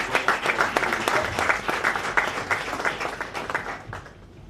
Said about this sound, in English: Could we please give a round of applause for